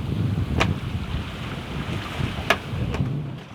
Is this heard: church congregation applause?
no